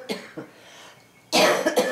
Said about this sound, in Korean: 그러니까 기침이 계속 나는데